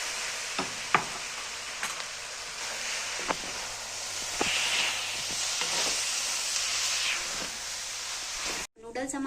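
Chow mein noodles stir-fry in a pan with soy sauce and vinegar, giving a steady loud sizzle and hiss broken by scattered knocks of a utensil against the pan before an abrupt stop.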